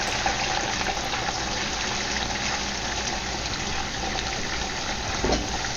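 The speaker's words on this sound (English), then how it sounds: "we're gonna throw the shrimp into the deep frying oil" Jumbo shrimp slid into hot deep-frying oil in a wok, giving a loud, dense, continuous sizzle and crackle up close, with no voices.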